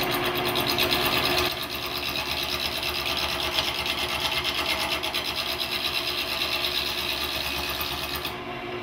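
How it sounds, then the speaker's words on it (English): Wood spins on a lathe while a large gouge cuts into a piece that still has its corners, giving a steady loud rasping, scraping roar up close that eases slightly after the first moments, with no talking. "I'm going to use my large gouge to begin the turning process."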